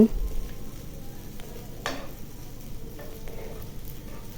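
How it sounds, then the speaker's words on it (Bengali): Oil sizzles steadily in a pan as garlic and onion fry with a soft crackle, broken by an occasional clink of a utensil against the pot. "এখন ভালো করে ভেজে নিব"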